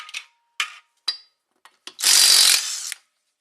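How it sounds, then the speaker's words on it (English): Compact, light REVVSTARK cordless impact wrench on lug nuts of a 1985 Oldsmobile's 14-inch wheels: several short clicky bursts, then a loud sustained hammering whirr of about a second, close and without talk. "I'm loving this REVVSTARK impact wrench. It's compact, light, it's loud,"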